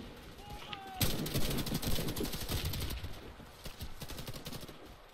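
Pump-action shotgun and other weapons firing in the Warface shooter game, a dense stretch of repeated loud blasts and crackling shots after a quiet opening second, continuing with rhythmic reports throughout.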